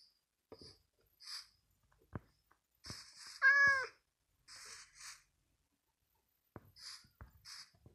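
A cat in Minecraft meows in short, separate calls with gaps of silence between them. One longer, clearer meow sits in the middle, heard alone and fairly close.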